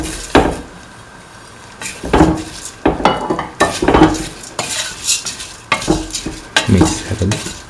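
Mung bean and potato vermicelli pasta is stirred in a pan, with repeated scraping strokes of a spoon against the pan at an uneven rhythm over a soft background sizzle.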